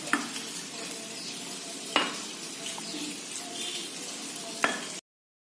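Dough mixed with black sesame seeds is stirred and kneaded in a bowl, giving a soft continuous scraping with a few sharp utensil knocks against the vessel.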